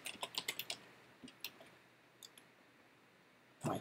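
A computer keyboard clicks in a quick burst of keystrokes, then scattered single taps and one last cluster, all faint and close in a quiet room.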